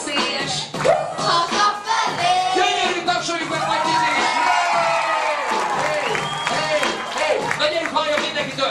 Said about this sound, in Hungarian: Gyönyörű, tapsoljuk meg Matyit is!